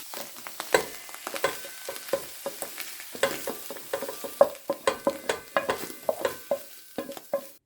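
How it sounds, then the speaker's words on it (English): Ingredients for a gluten-free vegan soup are sautéed in a pan before going into a pressure cooker. A utensil stirs and scrapes in frequent irregular clatters over a soft, close sizzle. "Just saute it until it's sort of light brownish"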